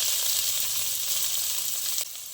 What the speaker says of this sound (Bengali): উচ্ছেটা একটু হালকা করে ভেজে নেব।